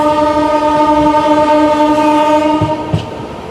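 Jodhpur Superfast express on a high-speed run between Vijayawada and Ongole: a loud, sustained horn with steady harmonic tones over rumbling rail noise, with a couple of brief knocks near the end.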